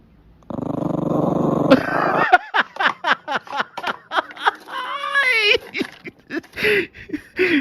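A dog growls close and loud, first in a sustained rumble and then in a run of whiny, yipping growls and grumbles in an uneven rhythm, with no one talking.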